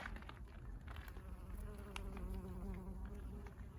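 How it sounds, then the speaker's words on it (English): A bee buzzing around Russian sage in a hot, dry high-desert garden, a faint wavering hum with rising and falling pitch over quiet outdoor background, no talking. "I see a bee."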